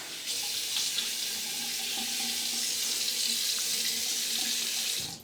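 Water from a tap runs steadily into a sink for rinsing after a shave, an even, close hiss that holds for about five seconds and then stops.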